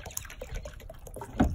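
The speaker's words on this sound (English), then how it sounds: "Fill the hardener to 8 ounces." Raptor Liner hardener being poured into a container, a short liquid trickle with light splashing and dribbling, close and fairly quiet.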